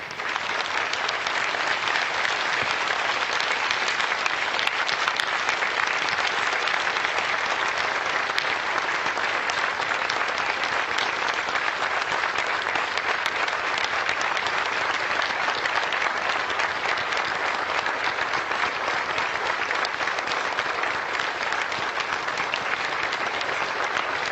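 A large audience at a Pearl Harbor remembrance ceremony gives long, sustained applause, dense and even clapping that runs steadily throughout with no talking.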